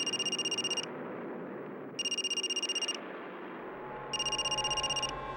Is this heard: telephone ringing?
yes